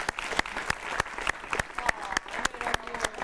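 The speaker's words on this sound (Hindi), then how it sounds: "और बम की तरह तालियां यहाँ बरसती रहनी चाहिए।" Clapping from a small audience at a Diwali stage show, a few distinct sharp claps standing out over a thinner patter, with a faint murmur of voices underneath.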